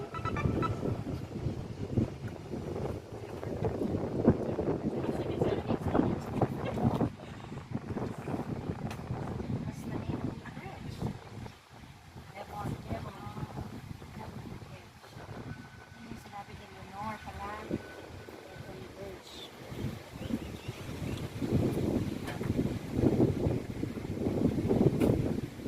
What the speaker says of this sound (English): Bricktown water taxi here in downtown Oklahoma